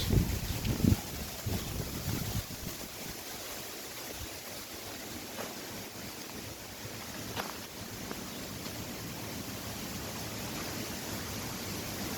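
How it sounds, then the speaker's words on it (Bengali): Wind blows across open countryside at Kuyarchala near Mouchak in Gazipur, a steady faint rush with microphone buffeting. There are a few brief knocks near the start, and no one talks. "আজকের বাতাস খুব সুন্দর, ওয়েদারটাও"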